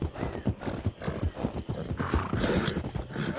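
Horse hooves clip-clop in a steady gallop rhythm in the video game Red Dead Redemption 2, loud and close, with a horse neighing partway through.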